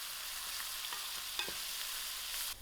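Ginger and garlic fry in a pot for a Durban mutton curry with cauliflower, giving a steady close sizzle with a few light stirring clicks and no talking.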